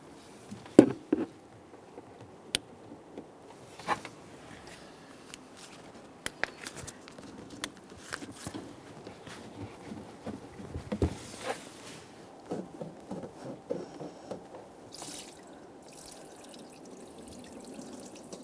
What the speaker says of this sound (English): Try to control that coolant coming out into your collection receptacle.